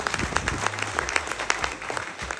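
An audience at a FASTag event breaks into lively applause, with dense, uneven hand claps swelling and rolling continuously over a couple of seconds, fairly close and crowd-sized.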